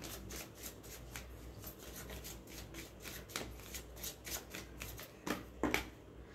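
Tarot cards being shuffled by hand in a steady run of soft riffling and rubbing strokes, with a few sharper flicks near the end, close and fairly quiet with no talking.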